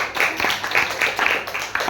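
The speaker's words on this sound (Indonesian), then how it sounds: "Tepuk tangan." Schoolchildren clapping together in a classroom, a loud, close burst of many hands with a rhythmic pulse running through it and no talking.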